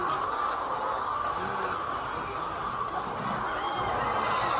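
A dense, constant din of many free-range village chickens on a poultry farm clucking and squawking together, loud and close, filling the space without pause.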